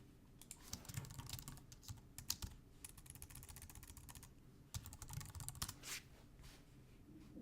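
Steady typing on a computer keyboard while entering an address, with quick irregular clatters of keys, some louder taps standing out, fairly close and with no voice over it.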